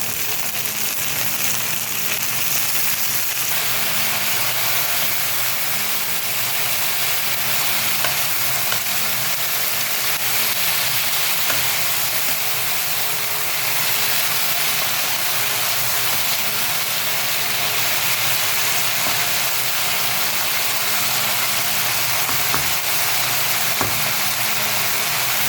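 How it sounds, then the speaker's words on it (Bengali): Potatoes and yardlong beans frying in a pan, a steady, loud sizzle and hiss of hot oil that runs unbroken throughout with no talk over it. "আলু আর বরবটিটা একটু হালকা ভেজে নেব"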